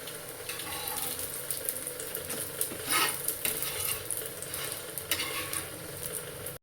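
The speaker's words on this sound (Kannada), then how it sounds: "ಈ ಕಡೆ ತವಾ ಫ್ರೈ ಮಾಡ್ತಾ ಇದ್ದೀನಿ" Food tawa fried on a hot griddle gives a steady close sizzle, with occasional scraping and stirring clinks from a utensil on the metal surface.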